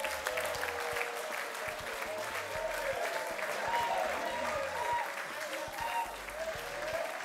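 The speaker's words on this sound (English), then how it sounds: "Let me put your hands together for Joy Nguma." Sustained audience applause from a crowd at a staged show, steady continuous clapping heard at moderate distance over its full length, with a few voices and cheers mixed in.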